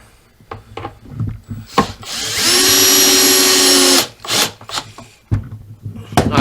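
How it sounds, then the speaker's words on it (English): A power drill drives screws into a wooden A-frame trestle. Around it come handling knocks and scrapes, then one loud sustained whir of about two seconds, close up, followed by more wood knocks. "I will just hold it myself and drive the screws in"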